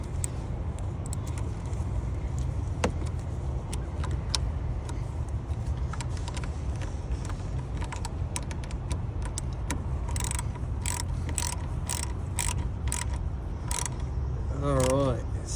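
A ratchet tightens the 10mm battery bolt on a 2019 Buick Enclave, quick bursts of clicking in the second half over a steady low engine-bay hum, fairly faint and without talking.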